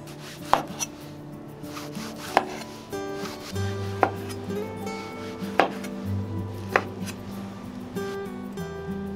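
A knife chops through pickled pig ears on a wooden board. About eight sharp, separate cuts come at an uneven pace, close and clear, over a low background hum.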